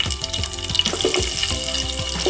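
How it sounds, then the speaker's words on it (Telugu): Mustard seeds, cumin and onions fry in a pan for green mango rice, a steady close crackling sizzle running throughout with low rhythmic thuds of stirring underneath. "ఇలా దోరగా ఫ్రై అయిన తర్వాత ఇందులోకి ఆవాలు, కొద్దిగా జీలకర్ర, ఇప్పుడు ఇందులోకి కట్ చేసి పెట్టుకున్నటువంటి ఉల్లిపాయలు"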